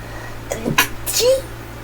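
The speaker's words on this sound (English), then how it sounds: "I feel like I'm gonna sneeze." A man sneezes once, a short sharp burst close by, with faint breathy sounds before and a brief squeak after, in an otherwise quiet room.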